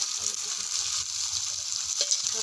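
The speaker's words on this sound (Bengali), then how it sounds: "এবারে মাংসটা দিয়ে দেবো নুন হলুদ তেল মাখানো ছাড়া" Chicken pieces fry in a clay pan, producing a steady close sizzle with faint stirring underneath throughout.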